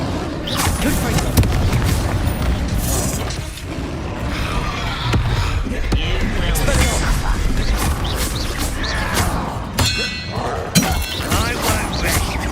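Confringo fire spells explode in Hogwarts Legacy combat, loud booms and crashes layered over dense game music and effects, with character voices shouting amid the continuous battle noise.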